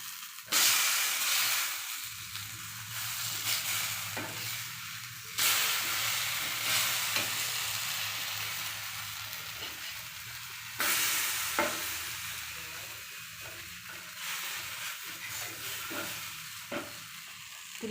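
Raw plantain (vazhakkai) slices frying in oil over a medium flame, giving a steady close sizzle and hiss. The sound swells in loud bursts when the pieces are turned, then settles back to a constant crackle with no voices.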